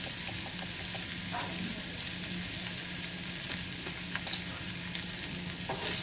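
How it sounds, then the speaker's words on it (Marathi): Onion frying with salt in a pan, a steady close sizzle with occasional stirring scrapes running throughout, no voices. "मीठ टाकलं की कांदा पटकन फ्राय होतो"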